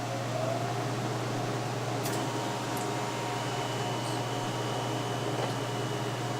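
An Electro Freeze CS600 soft-serve ice cream machine runs with a steady, loud mechanical hum and fan-like whir, with a few faint clicks over the constant drone.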